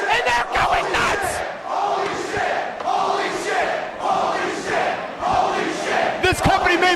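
A sold-out wrestling crowd at the CZW Arena roaring and cheering in loud surging waves, with chants and shouts rising and falling throughout.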